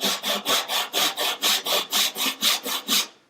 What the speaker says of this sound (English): eyeing the saw to keep it nice and vertical.